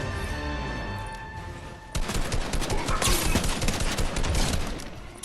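Rapid gunfire in the video game Fortnite rattles in a dense continuous burst after a quieter opening, loud and close, with no talking over it.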